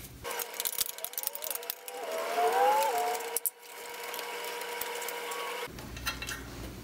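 Ratchet clicking away at a 7/16 exhaust pipe bolt tucked under the oil cooler of an AMF Shovelhead Lowrider, quick close mechanical clicks in bursts with a few squeaky turns in between.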